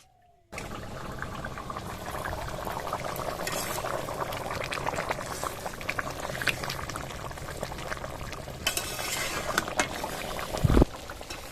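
A chicken curry with potatoes, with a little water just added, bubbles and churns steadily in the pot, close and continuous, ending with a brief clatter.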